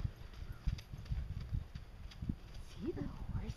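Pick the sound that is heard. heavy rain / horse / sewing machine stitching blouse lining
horse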